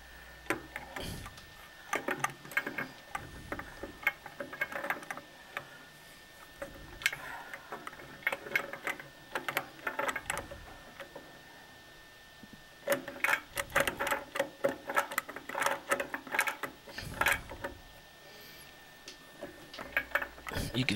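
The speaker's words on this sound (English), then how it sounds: "See how easy it is to reach up there and tighten it with the basin wrench." A basin wrench tightens a fitting under a wall-mounted sink, making repeated ratcheting clicks and ticks close by, in two busy bursts separated by quieter stretches.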